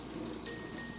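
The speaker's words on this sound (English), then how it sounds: "rinse it off one last time" Running tap water splashes steadily over an acrylic disc being rinsed in a sink, a continuous close hiss and gush with no pauses.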